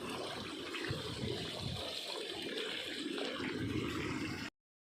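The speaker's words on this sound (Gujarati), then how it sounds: "અહીંથી પાણી જવા માંડ્યું છે સીધે સીધું આમ" Irrigation water runs steadily along a farm field channel, a continuous close rushing gush with no talk over it, ending abruptly.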